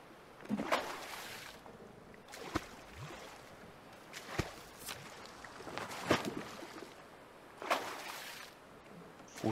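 A boat pushing upstream against a river current in the survival game The Forest, with soft water sloshing and rushing punctuated by several sharp splashy bursts of paddle strokes at irregular intervals, at moderate, fairly quiet level.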